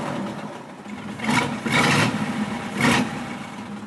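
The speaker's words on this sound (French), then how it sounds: "Écoutez-moi ce petit bébé. C'est un Big Block V8." A 1938 Big Block V8 in a collector car runs, idling with a steady mid-range drone and rising in two or three brief revs.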